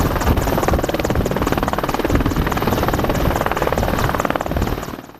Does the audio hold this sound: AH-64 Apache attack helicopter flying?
yes